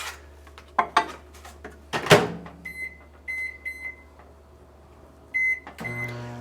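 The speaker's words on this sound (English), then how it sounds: "And then now we're gonna put it in the microwave. We're gonna put it in there for about like 2 minutes." A kitchen microwave oven heating oats with milk: a door clunk and clatter, then a steady hum broken by repeated electronic beeps, moderately close with no talking.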